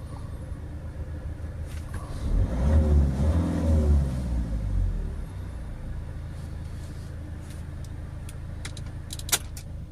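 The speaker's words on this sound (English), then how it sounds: "that's the throttle flap closing and opening there" Peugeot Boxer 2.0 van engine idling in a workshop, with the throttle flap opening and closing: a low rumble swells for a few seconds as revs rise, then settles back to a steady idle, close and moderately loud, no talking.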